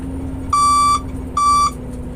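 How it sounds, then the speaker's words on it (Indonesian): A fatigue-warning alarm inside a Scania P410 coal-hauling truck gives two long, loud, steady electronic beeps, each lasting roughly half a second with a short gap, over a low engine hum in the cab. "itu adalah alarm fatigue"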